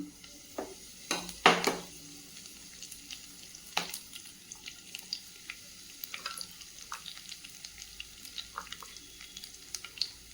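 Pan frying for Tamil egg masala, sparse crackles and pops over a low background hiss, with a few sharper louder spatters near the start and scattered softer ones after.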